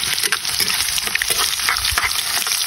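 Garlic and then onion sizzling and frying in a hot pan for a Filipino chicken and pork Bicol express, with steady bright crackle and occasional stirring clatter up close, no talking.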